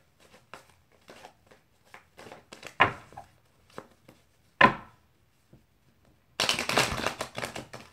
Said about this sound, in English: So I'm shuffling for Leo for this period